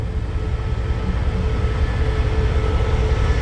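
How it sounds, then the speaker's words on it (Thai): QSY diesel locomotive number 5223 hauling train 142 out of Ubon station toward Bangkok Aphiwat, a loud, steady low rumble of engine and rolling wagons, continuous and close with no voices. "ใช้หัวรถจักร QSY หมายเลข5223นะครับทำขบวนนะฮะ"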